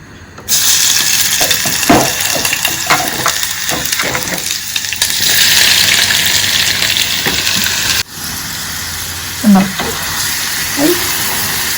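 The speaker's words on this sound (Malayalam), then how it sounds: "എണ്ണയൊക്കെ ചൂടായിട്ടുണ്ട്. ഇനി ക്യാരറ്റ് ഇതിലോട്ട് ഇട്ട് കൊടുക്കാം." Grated carrot dropped into hot oil sizzles steadily and loudly, with a bright continuous hiss, occasional stirring clicks and a brief drop in level partway through.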